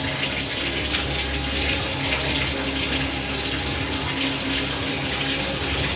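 A shower runs steadily for six seconds, a loud, even rush of falling water with no pauses or voices.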